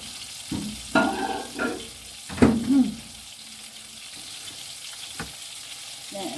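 Bacon fries in a pan for a full cooked breakfast, a soft sizzling hiss running under clattering pan and utensil knocks and a few louder scraping stirs.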